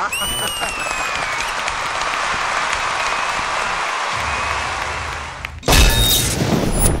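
A television dance-show audience claps in a continuous dense wash of applause that runs steadily, then breaks into a louder, harsher burst near the end.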